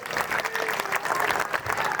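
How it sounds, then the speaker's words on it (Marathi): An audience at a dance summer camp event applauds an invited guest on stage, steady dense clapping from a sizable crowd sustained throughout at even loudness, with no voices over it. "ओंकार सरांसाठी जोरदार टाळ्या झाल्या पाहिजे."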